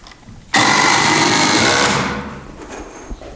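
A power driver spins a screw into wood, a loud close whine lasting about a second and a half that winds down, followed by a few faint knocks.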